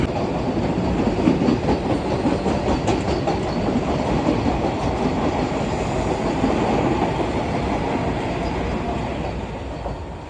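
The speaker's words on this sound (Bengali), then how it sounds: "ট্রেন আমাকে ছেড়ে চলে যাচ্ছে এখন শিয়ালদার দিকে" An AC local train on the Sealdah–Ranaghat line pulls out of Naihati station toward Sealdah, its close, loud rumble and wheel clatter rolling continuously throughout, with no talking.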